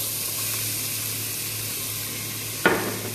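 Finely crushed onion frying in oil in a pot for Arabic-style lentil stew, a steady soft sizzle under low hum, broken near the end by one sharp clank, with nobody speaking.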